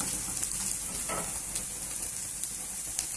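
Chopped onions sizzle in a hot pan while browning for egg fried rice, a steady close hiss of frying with faint stirring scrapes and no talk.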